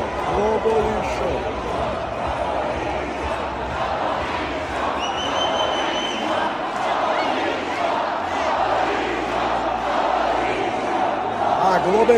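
Rowdy crowd of football supporters at a political rally, booing and chanting in a dense, continuous roar of many voices, with shouts rising over the din throughout.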